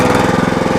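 A Red Rock Trencherman mini towable backhoe engine revs at under half throttle, a loud, close, steady chugging drone with a fast regular pulse.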